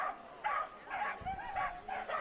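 Corgis bark at a dog race at Canterbury Park, a series of sharp, yappy barks repeating in bursts every half second or so, fairly close and clear with no talk over them.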